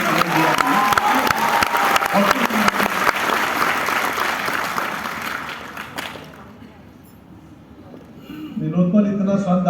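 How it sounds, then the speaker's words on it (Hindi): An auditorium audience at the Dumka Literature Festival in 2023 claps loudly and steadily for about six seconds, then the applause drops away as a voice begins speaking over the hall. "एक बार जोरदार तालियां बजाइए।"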